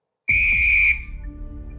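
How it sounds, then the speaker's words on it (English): A referee's whistle gives a single sharp, loud blast lasting about half a second, and a low room rumble lingers after it. "your 90 seconds will start when you hear the referee's whistle"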